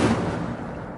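Incendio fire spell cast in Hogwarts Legacy, a short, loud, booming burst of flame with a dull whooshing roar that quickly trails off, with no voices.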